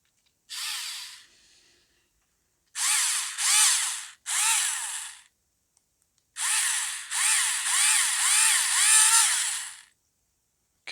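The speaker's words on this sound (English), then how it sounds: "Okay, got that drilled out." Small power drill boring holes in a plastic 1:677 scale USS Voyager model kit, several close, loud bursts of high whirring, some short and some sustained, separated by silent pauses.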